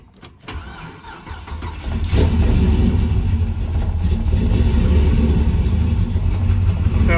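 A Chevrolet El Camino's engine cranks briefly on a cold winter day, catches, and settles into a loud, steady, rumbling idle close by.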